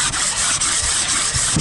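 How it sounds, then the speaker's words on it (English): Steady abrasive sanding on a metal cylinder head being resurfaced, a continuous gritty rasp with a few rhythmic strokes, close and loud, no voices. "That was the third sanding attempt."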